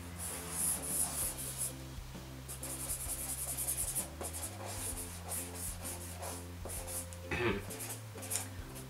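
A pen drawing on paper during a group drawing challenge, giving soft, scratchy strokes that come and go over steady background music.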